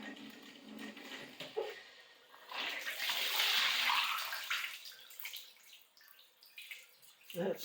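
Water rushes and hisses into a fixture after frozen pipes are repaired, swelling to a steady flow for a few seconds before tapering off, with faint voices and clunks around it.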